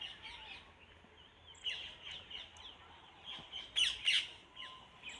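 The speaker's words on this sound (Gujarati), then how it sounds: "પોપટ બોલી રહ્યા છે" Several high, sharp parrot calls and squawks ring out intermittently in a guava orchard, growing busier toward the end over a quiet outdoor background.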